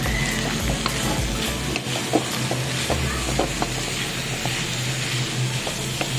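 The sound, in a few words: corned beef and green beans frying and being stirred in a pan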